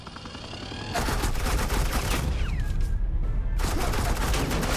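Sustained suppressing gunfire in a Batman video game, a loud continuous barrage of rapid shots that swells after the first second and keeps rattling without pause.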